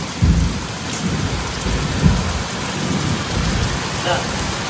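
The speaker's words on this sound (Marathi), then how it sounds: "संध्याकाळचे 4 वाजलेत आणि पाऊस बघा" Heavy evening rain pours down in Konkan in a dense, steady hiss, soaking an open courtyard, with low rumbles of thunder and a few thumps beneath it.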